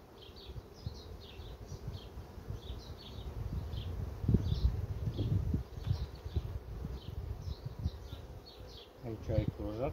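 A dense, steady hum of many honeybees buzzing close by at a hive during a queen check, with occasional handling noises and light rustling underneath.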